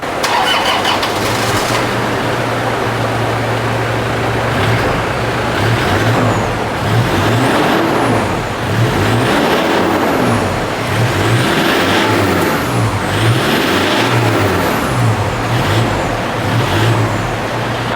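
A Toyota Tiger D4D diesel pickup with a newly fitted exhaust system of pipes and muffler revs repeatedly, loud and close, its rumbling engine rising and falling in a rhythmic series of throttle blips with no talking.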